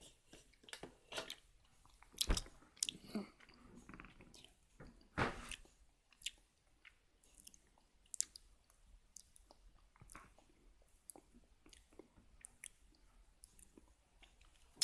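Quiet, close chewing of Tico snack, with irregular crunchy bites and soft squishy mastication repeating throughout, no talking.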